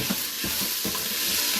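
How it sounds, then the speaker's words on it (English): Chicken pieces sizzle in a hot Instant Pot as jambalaya cooking begins, a steady, close frying hiss with a few soft stirring scrapes. "you can hear that nice little sizzle."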